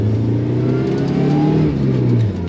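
A supercharged Toyota 3RZ four-cylinder engine in a vintage 4WD Toyota Sunrader motorhome revs up under acceleration, a loud, close droning growl with rising pitch heard from inside the vehicle.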